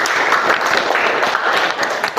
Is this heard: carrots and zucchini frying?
no